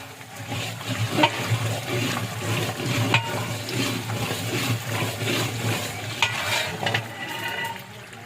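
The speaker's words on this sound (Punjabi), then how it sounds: "ਕੀਮਾ ਸਾਡਾ ਭੁੱਜ ਗਿਆ" Minced meat keema fries and is stirred in a pot for keema matar pulao, giving a steady sizzle with scraping spoon strokes and occasional clanks, moderately loud with no talk.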